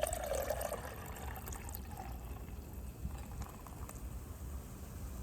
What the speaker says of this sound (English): Let's go and pour her in.